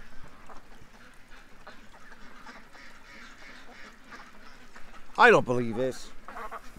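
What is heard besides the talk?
ducks quacking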